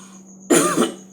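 A single sharp cough bursts out partway through, loud and close, followed by a short second cough at the very end, breaking an otherwise quiet background.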